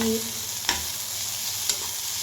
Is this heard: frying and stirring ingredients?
yes